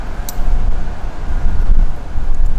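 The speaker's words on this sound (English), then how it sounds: "And forgive the wind. I'm doing this in a parking deck, and it just fucking sucks." Wind buffets the microphone in an outdoor parking deck in Norfolk, a loud, low, continuous rumble that swells and eases, with faint background noise and no talk.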